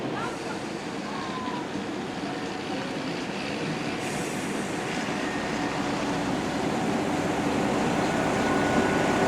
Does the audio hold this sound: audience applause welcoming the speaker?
no